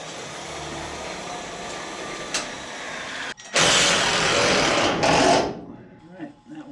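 A power drill drives screws into the steel cab corner of a Ford F-350 truck, two loud sustained whirring bursts close by after a quieter stretch of shop noise, ending abruptly.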